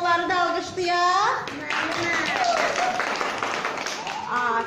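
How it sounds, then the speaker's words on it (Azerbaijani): Children applaud in a classroom at a kindergarten's school-readiness literacy lesson, a brief burst of clapping mixed with overlapping young voices and a teacher's speech. "Ona görə gəlin onları da alqışlayaq."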